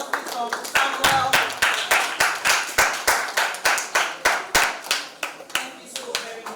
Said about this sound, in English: Round of applause please for Samuel.